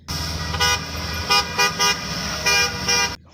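Toy school bus horn honking in a string of short, loud toots over a steady motor hum, with six distinct blasts spaced irregularly across a few seconds.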